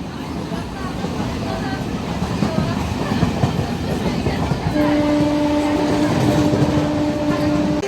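A train rumbles along loudly with a steady clatter, and a long sustained horn tone sounds through the second half.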